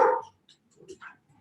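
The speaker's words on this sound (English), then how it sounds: "Sorry, problem with dogs." Dogs bark in the background during an online talk, one loud close bark followed by a few fainter, scattered yelps and whimpers.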